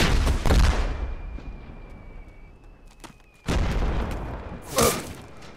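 Grenade explosions in the World War II video game Invasion 1944, several heavy booms with a long rumbling decay between them, loud and close, with no voices.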